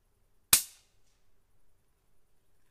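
A Taipan Shorty .25 air rifle at about 45 foot-pounds fires a single shot from 15 feet: one sharp, loud crack that decays quickly into near silence.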